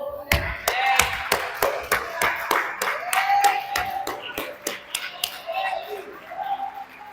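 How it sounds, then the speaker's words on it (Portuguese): A congregation at a Sunday praise and worship service claps in a steady rhythm, sharp distinct hand claps repeating about twice a second, mixed with voices speaking or singing underneath. "Você pode aplaudir o Senhor?"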